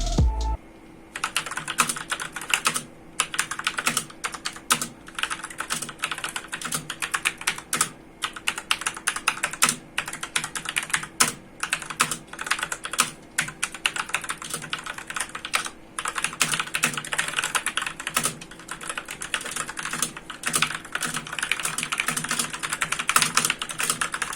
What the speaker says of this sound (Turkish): klavyemizin sesini dinletmek istiyorum sizlere arkadaşlar. Bunun çok güzel bir sesi var.